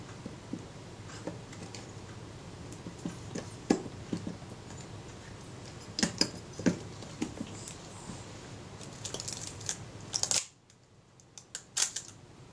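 Scattered sharp mechanical clicks from the faulty shutter release of a Retina Reflex type 025 camera, several close together, over a low steady background hum; a couple more crisp clicks follow a brief quiet gap near the end.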